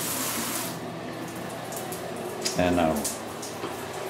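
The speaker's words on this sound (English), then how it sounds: "Turn off the hot water here." Hot water runs steadily from a household tap with a broad hiss, then the flow is shut off near the end, leaving quieter room noise; someone says a single word.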